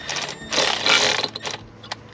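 Oil pan bolts being hand-tightened on a BMW 135i, short metallic ratcheting and clicking bursts up close, with a dense scrape in the middle and a sharp tick near the end.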